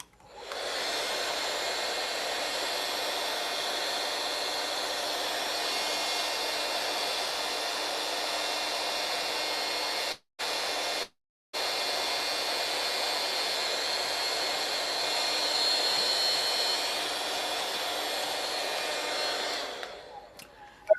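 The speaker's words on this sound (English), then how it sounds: "Now I'm going to use my vacuum and vacuum where I can't literally see." A small vacuum cleaner sucks lint from inside an embroidery machine with a loud, steady, airy whine. It cuts out twice for a moment near the middle, then runs on before switching off.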